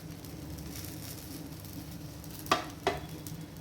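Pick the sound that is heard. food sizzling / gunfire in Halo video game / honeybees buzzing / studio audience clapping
food sizzling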